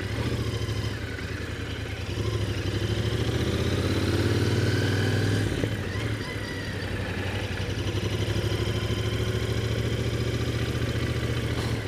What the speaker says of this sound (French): le moteur est quand même assez souple